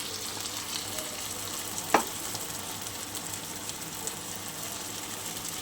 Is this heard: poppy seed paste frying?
yes